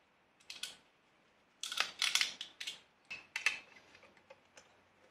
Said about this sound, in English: So I'm just gonna cut this little loom down a bit